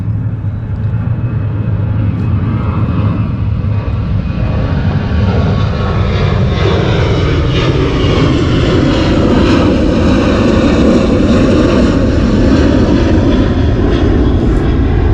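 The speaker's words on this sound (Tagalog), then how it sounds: "teka lang kasi may aeroplano na naman" An airplane flies overhead, a loud, continuous engine roar that fills the whole span and swells slightly as it passes close above.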